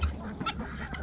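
Chicken clucking outdoors, a brief, faint burst of low clucks and honk-like calls.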